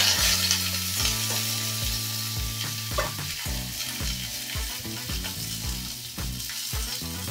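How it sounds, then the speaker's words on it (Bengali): Green beans stirring and frying in hot oil, with a steady sizzle under a low rhythmic background beat and repeated soft scraping strokes through the pan. "তো তেলটা দেওয়ার পর তেলটা যখন ভালোভাবে গরম হয়ে যাবে, এর মধ্যে দিয়ে দেবো শিমগুলো"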